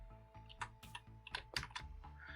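Code is typed on a computer keyboard in quick, close, irregular bursts of sharp key clicks with brief pauses between them, and no one speaks.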